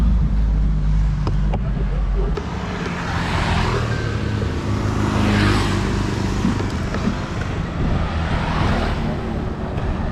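A mobility scooter on a road, its motor and tyres droning at a steady level with wind buffeting the microphone, rising in strength as it picks up speed.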